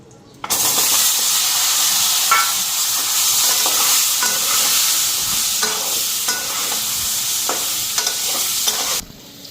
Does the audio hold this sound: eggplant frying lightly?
yes